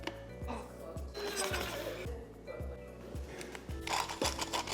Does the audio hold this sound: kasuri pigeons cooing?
no